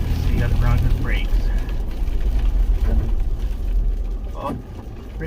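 A Ford Bronco brakes on an icy road during an ice storm, with a steady low road and engine rumble beneath brief voice-like sweeps, loud and close throughout.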